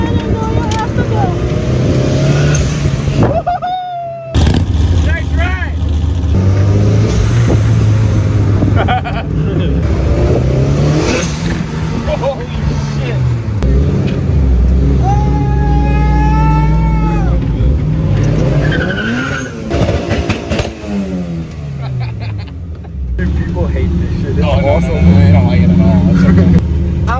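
A 400 HP Honda-powered go-kart weighing 1500 pounds revs loudly around a college campus, its engine rising and falling with repeated throttle blips and roaring acceleration, close and dominant over occasional voices.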